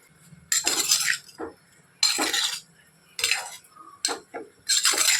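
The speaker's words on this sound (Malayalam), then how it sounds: "ഈ അവിയൽ ഈ കുക്കറിൽ നിന്ന് മാറ്റിയിട്ട് ഒരു ചട്ടിയിലാണ് വെക്കാൻ പോകുന്നത്." Repeated bursts of scraping and clinking as aviyal is scooped with a metal utensil from a pressure cooker into a clay pot, separated by short pauses.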